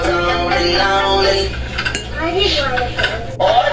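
Cutlery and dishes clink while someone eats a home-cooked meal of pechay with egg and oyster sauce, with a steady pattern of small taps and scrapes at close range under a low background hum.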